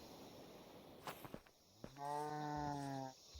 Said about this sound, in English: I see a cow.